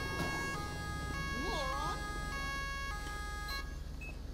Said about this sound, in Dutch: Wat was dat voor een sirene